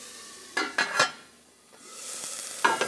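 Shredded carrots cooking in a pan are stirred, with a few scraping utensil strokes against the pan over a soft, steady sizzle, up close.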